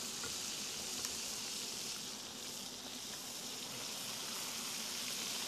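Seafood for a lobster dish fries in a pan, giving a close, steady, dense sizzle that continues evenly throughout with no talking.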